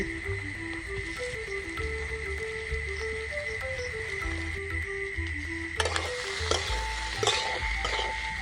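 Boiled potato, onion and ginger-garlic paste stir-fried in mustard oil, a steady close sizzle and frying hiss running throughout, with sharper scraping stirs and clatter joining near the end.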